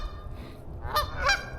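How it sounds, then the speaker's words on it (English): Canada geese at a pond giving two close, loud nasal honks in quick succession over a low background rumble. "Say hi to my Canadian friends. Hi, geese."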